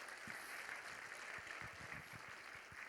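A church congregation claps during a sermon, producing a steady wash of faint applause for a few seconds with scattered individual claps standing out.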